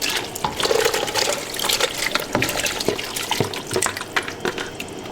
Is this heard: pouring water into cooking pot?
yes